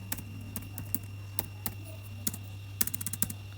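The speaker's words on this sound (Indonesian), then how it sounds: "Kita ketikkan master log filenya" Someone types a MySQL master log file name on a keyboard: scattered close key taps, then a rapid run of strokes near the end, over a steady low electrical hum.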